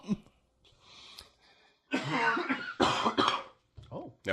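Several short coughs from a person, some under spoken voices, with a pause between bursts; a voice may be imitating coughing on request.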